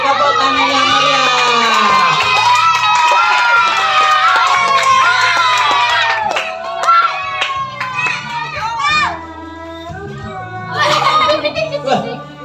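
Elementary school children at a Kartini Day fashion show shout and cheer loudly as a dense, high-pitched crowd. The noise thins into scattered individual yells and then swells again near the end.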